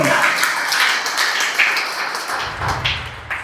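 Church congregation applauding, a dense, fairly loud wash of many hands clapping together with scattered thumps, no speech over it.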